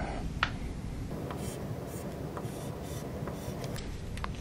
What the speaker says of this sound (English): draw the next intermediate